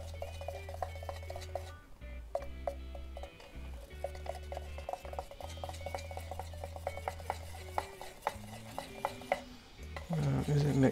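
A homemade guitar grain filler, darkened with a little purple, being stirred in a container, giving steady rhythmic scraping and clinking taps close by, with a low hum underneath and a rougher burst of mixing at the end.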